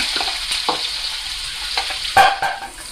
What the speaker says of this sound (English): add my fresh garlic and onions to this pot, and you want them to fry